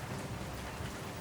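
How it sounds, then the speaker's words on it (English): Steady, dense rain beats against an office window in the video game World of Goo 2, a continuous even hiss with no pauses or voices. "The rain beats against the office window."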